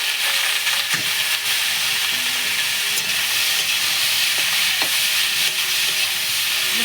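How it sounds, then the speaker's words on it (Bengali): Onions drop into hot oil and fry with a constant, close, hissing sizzle, broken by occasional sharp pops and light clatter throughout. "তেলটা হয়ে গেছে এবার এর মধ্যে পেঁয়াজ গুলিগুলো দিয়ে"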